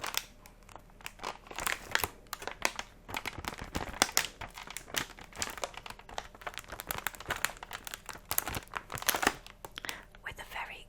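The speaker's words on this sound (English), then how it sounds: "With a very crinkly packet." A crinkly plastic packet of limited-edition Marshmallow Moon Oreos being handled up close, giving quiet, dense crackles and crinkles in irregular bursts, with faint whispery sounds mixed in.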